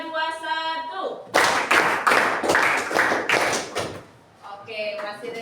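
A school class claps out a counted rhythmic pattern, sharp group claps in quick bursts between stretches of a woman's sung or spoken instructions, loud and close.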